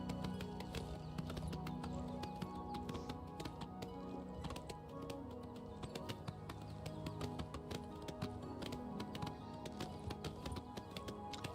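Horse hooves clip-clop at a steady galloping rhythm in the Oblivion Remastered role-playing game, sitting under game music at an even level throughout.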